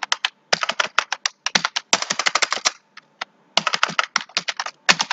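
Rapid computer keyboard typing while router configuration commands are entered, a dense run of crisp close key clicks in bursts with a brief pause midway, no talking.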